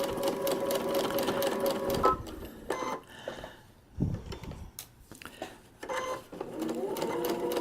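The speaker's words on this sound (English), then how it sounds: "I'm going to continue stitching." A sewing machine stitches a paper-pieced quilt block in steady, close runs, pausing briefly in the middle with soft handling noises before the motor hum resumes; no one speaks during it.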